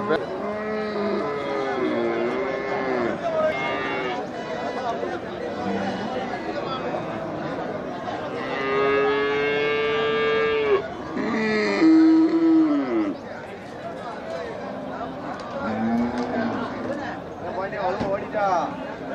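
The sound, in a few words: Kangayam cattle at market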